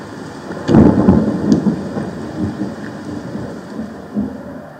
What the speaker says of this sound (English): you guys heard our final little thunder here, where he steps into the puddle